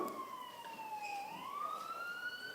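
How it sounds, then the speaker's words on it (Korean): Emergency siren wailing from outside during a church sermon, one tone sliding down and then rising again, fairly faint and distant, with no talking over it. "사이렌까지 울리고요"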